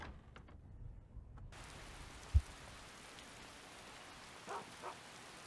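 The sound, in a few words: rain falling in video game Skyrim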